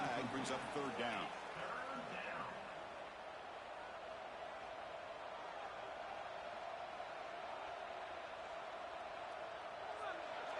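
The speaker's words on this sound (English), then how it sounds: "listen to this crowd noise. This stadium is vibrating" Stadium crowd at a football game, a steady, loud, dense roar that holds without pause, with a brief commentator voice over it at the start.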